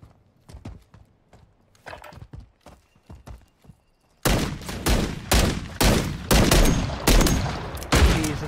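Gunfire in a ranked video game match, sparse faint shots at first, then dense loud rapid bursts of automatic fire in quick succession.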